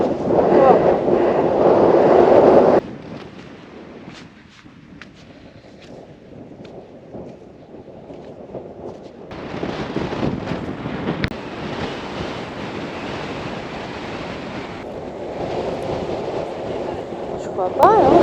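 Strong wind roars across the top of a sand dune, buffeting the microphone in heavy gusts that ease off for a few seconds before building again to a loud, continuous rush.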